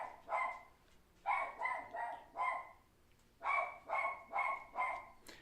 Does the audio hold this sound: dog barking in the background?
yes